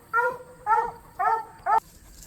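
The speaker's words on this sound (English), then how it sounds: "we just had to have Scarlett stop barking" A dog barks four times in a steady rhythm, each bark sharp and tonal, fairly close, with nothing else going on.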